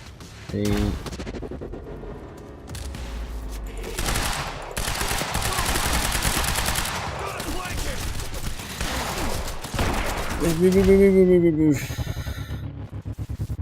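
Gunfire rattles through a firefight in the video game Quantum Break, with sustained bursts and shots under a man's speech and game sounds, steady and fairly loud throughout.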